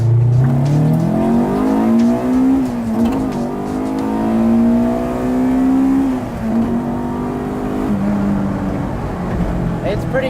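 Honda CRX with a B-series B16 engine accelerating hard on a mountain touge road, revs climbing through gears with clear rising pitch sweeps and a brief shift dip, loud and close.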